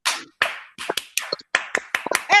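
A group at a health-kit training session claps in a rhythmic acclamation, sharp separate claps in a quick patterned sequence, close and loud, with no talk.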